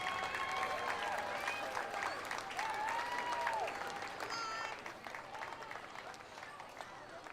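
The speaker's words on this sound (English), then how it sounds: "A big round of applause to the Temecula Cowgirl Color Guard and Temecula Equine" Parade crowd applauding a cowgirl color guard and equine riders at a Fourth of July street parade in Temecula, a broad wash of distant clapping and cheering that fades slightly toward the end, with some voices mixed in.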